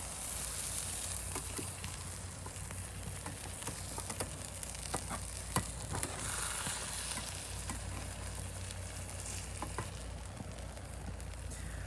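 Bread and cheese frying in a pan on a propane stove, a steady close sizzle with faint crackles and occasional light ticks and scrapes, with no talking.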